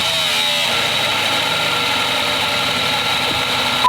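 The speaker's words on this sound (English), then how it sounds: "we heard a sound come from the engine that we just know can't be good" A steady, rough truck engine drone runs continuously at close range, with a constant vibrating hum and no voices, the engine making an abnormal, faulty-sounding noise.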